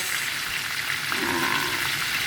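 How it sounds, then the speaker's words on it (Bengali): A fish head fries in a little oil in a pan, giving a steady, close sizzling hiss with no voices. "এখানে অল্প তেল দামে একটা মাছের মাথা বাজা দিচ্ছি"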